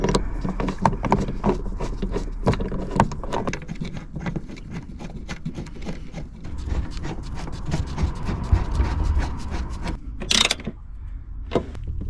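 Front seat bolts on an Audi A3 8P Sportback being tightened, with a busy run of close ratchet-like clicks and metallic knocks, then a brief louder clatter near the end before a final few clicks.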